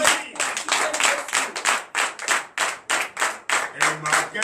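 A church congregation at a night deliverance and prophecy service claps in a strong rhythmic beat, loud regular bursts of hands together, with voices acclaiming underneath and a brief tone near the end.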